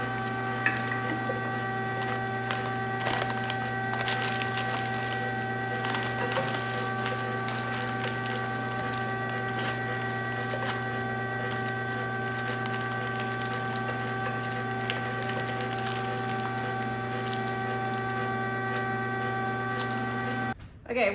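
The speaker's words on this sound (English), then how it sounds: "So now we're gonna run this through again in the fine grind" A meat grinder runs venison and bear sausage meat through a fine grind, giving a steady, continuous mechanical hum and patter that holds evenly for about twenty seconds before stopping abruptly.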